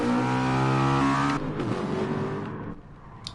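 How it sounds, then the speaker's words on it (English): Many race car engines revving in the distance in the GT Sport racing game: a loud, steady harmonic engine drone holds, then breaks into rougher, fading revs with a brief whine near the end. "The sounds of many a engine revs up in the distance."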